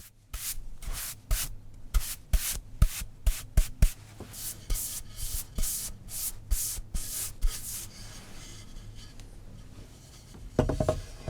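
Rhythmic scratchy strokes of 240-grit sandpaper rubbed by hand over varnished oak, close up, in a steady back-and-forth pattern before pausing.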